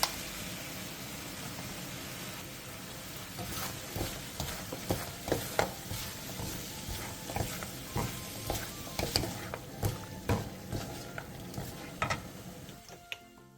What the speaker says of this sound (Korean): 통깨, 대파, 청양고추를 넣고 1분 정도 가볍게 볶아주세요.